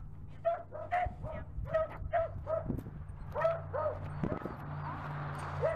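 Several dogs bark repeatedly in quick yips and barks, fairly close, over a low steady hum.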